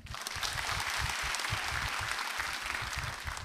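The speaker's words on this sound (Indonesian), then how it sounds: "Boleh tepuk tangan." Crowd applause at a public event in Indonesia, a dense burst of clapping from many hands that carries on steadily for a few seconds, fairly close and without speech.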